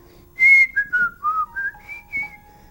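A man whistles a short tune of about seven or eight sliding notes in a clear, near, solo line after a faint lower tone, the pitch stepping down and then back up before it stops.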